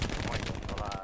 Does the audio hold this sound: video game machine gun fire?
yes